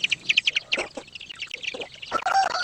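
Small chicks in a triangular cage give a run of high, rapid peeping chirps, fairly close and moderately loud, with brief pauses and a burst of busier chirping near the end.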